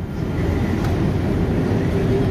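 A pair of SD40 diesel locomotives hauling empty flatcars passes close by on double track, a loud, steady rumble with low engine drone and rolling rail noise filling the whole stretch.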